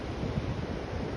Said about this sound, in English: I don't know if you can hear me or not over this wind